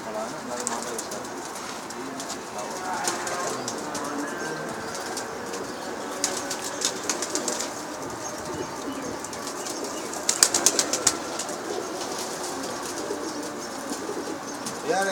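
Pigeons on a rooftop coo softly while wings flap in brief bursts, with one louder flurry of flapping partway through, set against light background noise and occasional nearby talk.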